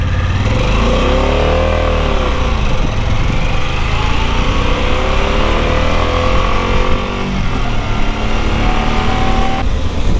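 A Harley-Davidson Pan America 1250 Special adventure motorcycle accelerates from a ride through busy traffic, its engine pulling steadily and loud, with rising and falling revs over a constant wind rush, no talk.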